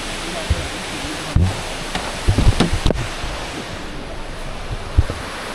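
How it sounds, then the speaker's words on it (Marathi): Water overflowing from a dam near Satara, a steady broad rushing roar heard up close, with wind buffeting the microphone and a few scattered knocks and handling bumps. "डॅममधून पाणी ओव्हरफ्लो होतं"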